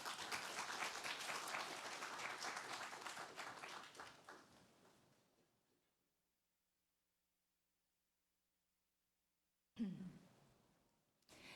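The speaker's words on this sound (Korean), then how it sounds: "우리 또 박수로 하나님 앞에 영광의 박수 올려드리겠습니다." A church congregation at a Korean Sunday worship service applauds warmly for several seconds before the clapping fades into silence, then a single voice begins speaking.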